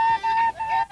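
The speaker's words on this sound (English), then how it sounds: "He blows his pipe this way." A herder blows a pipe to call goats, giving a sustained, fairly loud piping tone that dips briefly and resumes, heard alone.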